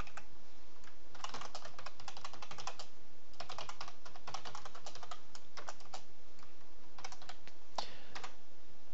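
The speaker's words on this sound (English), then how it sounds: "having troubles with my keyboard here" Rapid typing on a computer keyboard, clattering in bursts and short runs of keystrokes with brief pauses between them, close and fairly quiet over a steady faint background hiss, with no talking.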